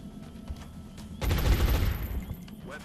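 A burst of rapid automatic gunfire erupts in XCOM Long War, a dense loud rattle of shots lasting under a second, with quieter scattered shots and background game ambience before and after.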